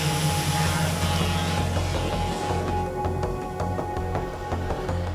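Drone lifting off above the crater of Fuego volcano, a steady layered motor hum with tonal whine bands that stays loud and continuous throughout, no talk.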